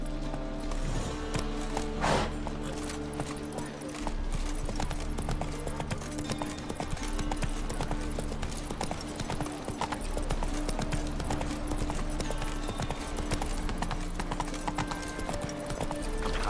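Roach, a horse in The Witcher 3, gallops with a steady, rapid clip-clop of hooves that runs loud and close throughout, with a brief whinny near the start over a low droning game soundscape.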